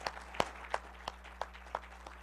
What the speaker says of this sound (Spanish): Vamos a dar un fuerte aplauso al doctor